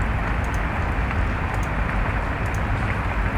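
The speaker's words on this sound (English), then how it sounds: "Let's turn the rain off real quick." Rain ambience in an indie video game plays as a dense, steady hiss of falling rain, loud and continuous, with no voices.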